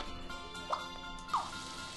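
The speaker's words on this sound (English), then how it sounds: "Okay, rain cloud." Rain falling from a rain cloud in the game Scribblenauts Unlimited, a faint, steady hiss with two brief brighter splashes, no talk over it.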